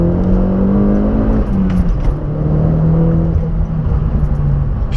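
An Opel Corsa OPC, 230 hp with a full stainless exhaust line, revs hard under way with sustained engine drone and pitch steps as it pulls through gears, heard from inside the car without speech.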